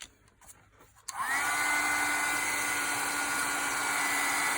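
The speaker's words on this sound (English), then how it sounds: "And then we'll bring out the heat gun and emboss this." A well-worn heat gun switches on after a brief quiet moment and runs as a steady, loud, close blowing whine with a constant tone while embossing black powder, with no talking.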